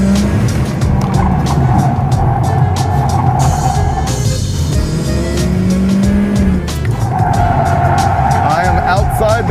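A car on a race course brakes hard on its anti-lock brakes with pulsing tire squeal, then gets back on the throttle and accelerates. Voices talk faintly under the engine noise.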